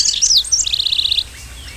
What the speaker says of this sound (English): Bird chirping.